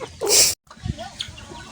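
A chicken gives a short loud squawk at close range, then softer clucking and rustling follow for a moment.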